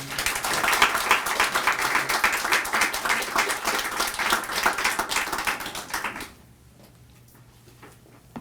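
An audience at a literary reading series breaks into sustained, loud applause that fills the room for about six seconds, then cuts off abruptly, leaving a quiet hall with a faint low hum.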